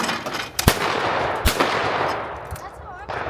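Shotgun fire at sporting clays in windy conditions: two sharp, loud reports about a second apart, then a fainter third shot, over constant wind rush buffeting the microphone.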